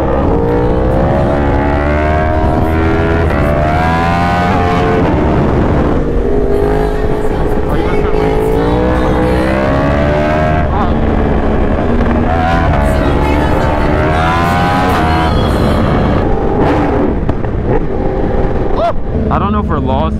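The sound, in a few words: BMW S1000RR and Yamaha R1 motorcycles accelerating hard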